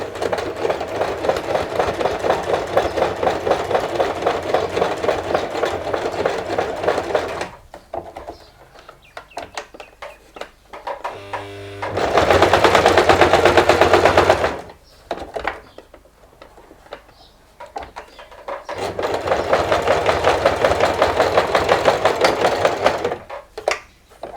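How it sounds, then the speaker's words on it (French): Sewing machine running a straight stitch on homemade menstrual underwear, a loud steady rapid chatter in long bursts that stop and restart, with a brief higher whir in between and quiet handling gaps. "là je vais coudre au point droit"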